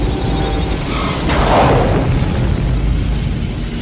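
A torpedo is fired from the Enterprise in a Star Trek film, producing a loud whooshing burst that swells over a deep, continuous rumble and then fades back into the low drone.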